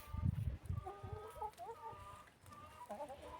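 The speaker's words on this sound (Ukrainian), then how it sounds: "Які курочки і півники тут. П'ять півників ще." Chickens and about five roosters cluck and call in a farmyard, with low bursts of clucking up close followed by higher, drawn-out calls, moderately quiet throughout.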